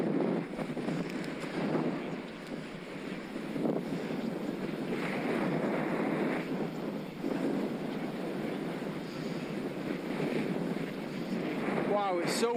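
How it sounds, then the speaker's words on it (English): Strong wind gusting and buffeting a microphone while riding a Specialized Turbo Vado SL e-bike in the Peak District, a loud, continuous roar that rises and falls with the gusts. "Wow, it's so windy."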